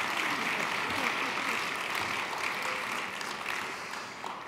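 Applause from a conference audience, a steady broadband patter of many hands filling the whole stretch at moderate level and tapering slightly toward the end.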